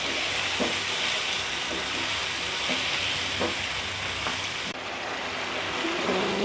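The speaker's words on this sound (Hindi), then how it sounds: "मिक्स करेंगे और हल्की आग पे ना इसको पकाएंगे ताकि टमाटर हमारे अच्छी तरह से" Chicken and potato curry with tomatoes and green chilies cooking on a low flame, giving a steady close sizzle and hiss with a few soft stirring knocks, and no talk.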